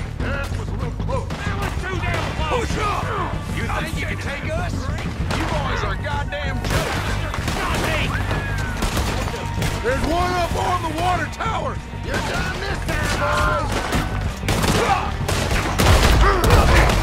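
Gunfire crackles through a Red Dead Redemption 2 firefight as a dense, continuous mix of shots and clatter. Voices talk over the shooting throughout.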